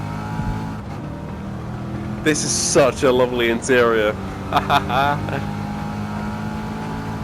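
A race car in Gran Turismo 7 drones steadily from the cockpit, its engine a constant low hum while someone talks over it.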